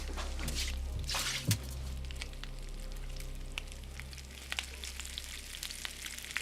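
Food burning in a pot sizzles and crackles steadily, with a low hum underneath and an occasional clink.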